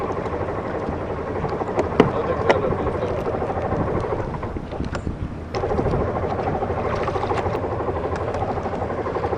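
A small boat's outboard engine churns and sputters, nearly starting but failing to catch, a loud rough motor drone with uneven bursts, a brief dip, then a renewed struggle.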